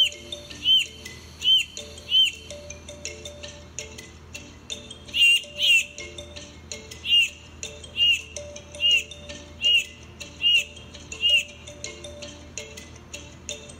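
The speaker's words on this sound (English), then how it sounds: "Watch this bird of paradise sing and dance for its partner." A bird of paradise sings a courtship display, repeating short, bright chirping notes in an even series of about a dozen calls over a quiet background.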